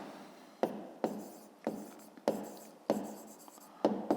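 A pen scratches on paper while a fifth-grade math exercise is worked out, seven quick strokes in a steady rhythm, each a short sharp onset that trails off, close and quiet with no talk over them.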